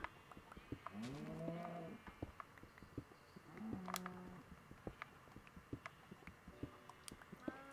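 A cow in Minecraft gives two short, low moos a few seconds apart, fairly faint over scattered clicks and soft game noises.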